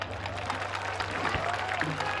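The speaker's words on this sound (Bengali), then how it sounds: "আপনি সবাই আমরা মিউজিশিয়ানদের জন্য একটা বড় হাততালি দিই আমরা" An audience at a concert applauds the musicians with steady, dense clapping that continues throughout with little rise or fall, over a faint crowd murmur.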